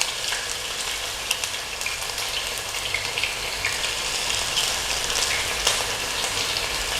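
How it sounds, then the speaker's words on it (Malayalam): Crushed ginger and garlic sizzle steadily in hot oil for a Kalanchi fish curry, a close, continuous crackling hiss with small pops throughout and no talking. "ഇഞ്ചി ചതച്ചത് ഇതാ ഒപ്പം തന്നെ നമ്മുടെ വെളുത്തുള്ളി ചതച്ചതും കൂടി നമുക്ക് ഇട്ട് കൊടുക്കാം"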